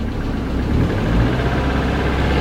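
A loud, close Mazda Miata engine with 90,000 miles and a possible failure idles with a rough, uneven rumble and a faint rapid knocking texture running through it.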